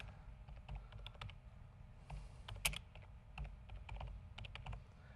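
Rapid, uneven keystrokes clatter on a computer keyboard in close, quiet surroundings, with a few louder key hits among the typing.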